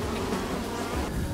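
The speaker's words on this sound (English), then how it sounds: "You can see a bee hatching right there." Bees buzz around a newly hatching bee in a hive, making a dense, steady, close-up drone of many wings with no pauses.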